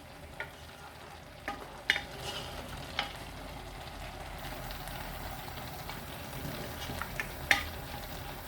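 Spinach and meat masala frying in oil over a high flame, a soft steady sizzle with scattered clicks and scrapes of stirring, close and fairly quiet, no voices.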